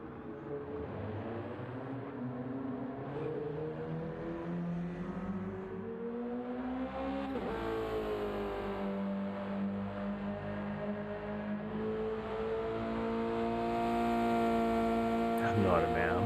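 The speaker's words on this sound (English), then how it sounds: "Just hear that car roaring up in towards 130R here on the outlap." A Subaru BRZ race car in a racing video game roars toward the 130R corner on an out lap, its engine note climbing and shifting steadily through gears, loud and continuous without talk.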